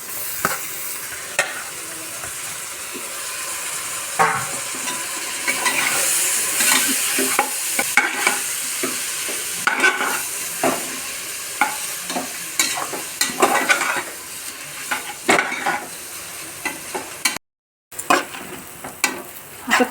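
Goat intestines being stirred and fried in a pan, prepared agri style for dal vajari, with a steady close sizzle and a run of scraping stirs throughout and a brief gap near the end.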